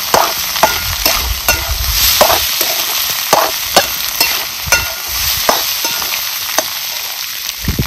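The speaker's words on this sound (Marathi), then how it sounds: "आता ह्यो कांदा भाजलेला आपण ह्याच्यात टाकायचा. चांगला ह्याचा एकजीव करून घ्यायचा." A spatula scrapes and taps rhythmically through egg bhurji mixed with roasted onion in a hot pan, repeated sharp metallic strokes over a constant close sizzle, with no voices.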